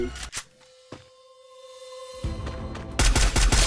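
Gunfire in the mobile battle royale game Free Fire during a ranked match, with a few separated shots early on, then a loud, dense burst of rapid fire toward the end.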